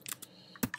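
A few quick keystrokes on a computer keyboard as a terminal command is typed, close and fairly quiet, with short clicks separated by brief pauses and no speech.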